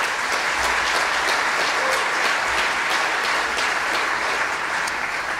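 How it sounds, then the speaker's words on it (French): Audience at a public cultural event in Montreal's entertainment district applauds, a dense, even wall of clapping sustained at steady volume throughout. "On les applaudit."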